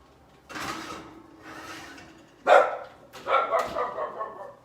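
A dog barks in a home kitchen during cooking, giving a few sharp, mid-distance barks followed by a louder cluster of yips and whiny barks.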